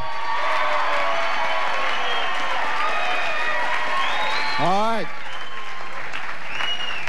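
Loud, dense studio audience applause with scattered whoops fills a comedy talk show set, running steadily throughout while a host speaks briefly over it.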